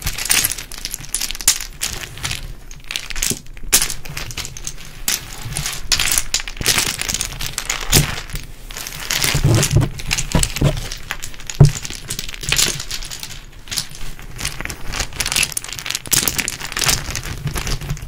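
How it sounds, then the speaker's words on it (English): Toy blocks are handled up close in a quiet room, giving a continuous run of small clicks, clacks and rattling taps with occasional sharper knocks, with no talking. "We didn't know what to do, so we're just doing these blocks."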